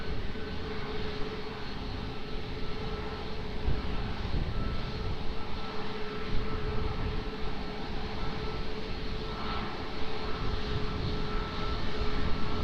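A fixed-wing airliner rolls for takeoff on runway 20 at Lisbon Airport, its engines a steady broad roar heard from a distance, holding level throughout with no voices.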